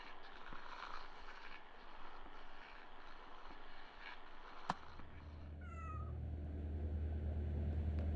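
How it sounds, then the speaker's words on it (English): A cat meows once in the Kentucky Route Zero video game, a short clear call near the end over quiet ambient hum and a rising low drone. "See if that cat over there has anything he wants to say."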